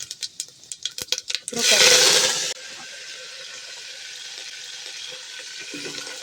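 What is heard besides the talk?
mustard seeds and cumin spluttering in hot oil for sambar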